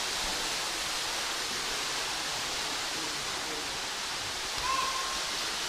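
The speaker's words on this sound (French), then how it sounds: "C'est vraiment un endroit magique avec la chute d'eau qui arrive en son centre là-bas." A waterfall pours into the centre of a magical natural pool, where swimming is forbidden, giving a steady, broadband rushing roar that holds constant throughout with no pauses.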